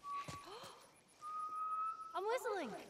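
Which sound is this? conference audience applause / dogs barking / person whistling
person whistling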